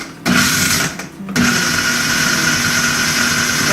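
Mushrooms being ground up in a kitchen machine for a veggie burger, a steady loud motorized whir that cuts out briefly twice near the start before running on continuously.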